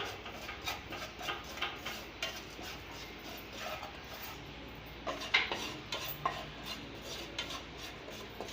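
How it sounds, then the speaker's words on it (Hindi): A utensil scrapes and taps in a pan while spices with black and white salt are stirred and roasted, giving irregular close clinks and rubbing strokes with no speech. "अब इसमें हम काला नमक और सफ़ेद नमक भी डाल देंगे और इसको भी बस हम थोड़ा सा भून लेंगे।"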